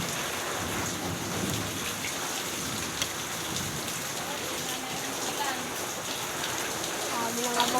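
Steady rain pours down nearby, a dense, even hiss of drops striking surfaces with faint low rumbles underneath, continuing unbroken throughout.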